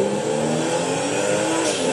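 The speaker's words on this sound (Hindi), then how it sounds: "ड्रिफ्टिंग कर रहा है तुम्हारा भाई।" A car in the video game GTA 5 revs hard and drifts, its loud continuous engine roar mixed with tire squeal, steady and close throughout with no talk.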